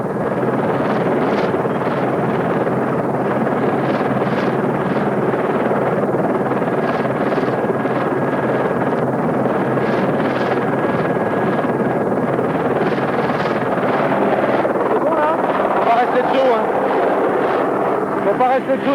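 A helicopter straining to lift an ultralight aircraft gives off a continuous rotor thump and roar, steady and fairly close, with wind buffeting and people talking over it.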